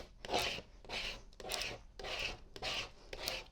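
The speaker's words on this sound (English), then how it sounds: "And I can just use my scraper" A scraper smooths a large sheet of backing down onto a work surface for an oversized bridal shower sign, making about six rhythmic rasping strokes close up with short pauses between them.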